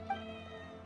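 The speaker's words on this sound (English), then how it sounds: "Oh, that cat." A cat meows in a video game, a single short faint mew over a steady low humming game soundtrack with no talking.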